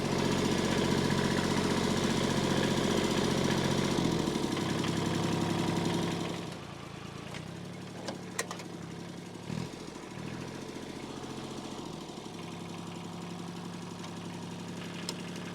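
A sawmill engine runs loud and steady while milling cladding boards from offcuts on a farm, then drops to a lower, quieter drone with a few sharp knocks and brief dips in its rhythm.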